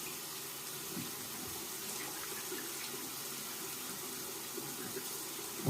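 Tap water runs steadily into a sink to rinse a cartridge razor, a soft continuous splashing stream heard close and quiet, with no talk.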